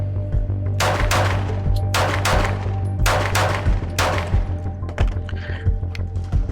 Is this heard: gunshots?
yes